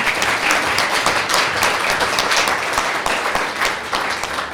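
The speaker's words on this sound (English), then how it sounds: "Let's have a big round of applause for them" An audience at a panel in an art museum gives a sustained round of applause for the exhibit's sponsors, dense even clapping filling the room at a steady level throughout.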